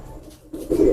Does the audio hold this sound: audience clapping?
no